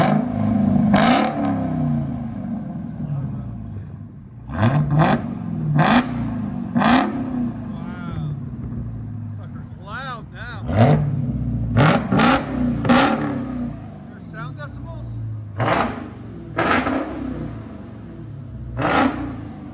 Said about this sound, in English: Charger Hellcat 2023 with fully straight pipe valve delete also.